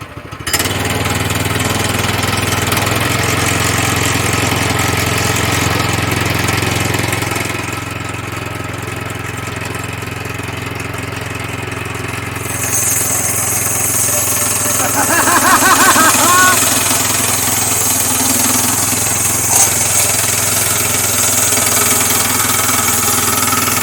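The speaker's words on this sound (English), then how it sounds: "That engine's a lot quieter than I thought it was gonna be." Small gasoline engine on a Woodland Mills bandsaw mill runs at a steady drone throughout, loud and close, with a brief change in pitch midway as the saw works.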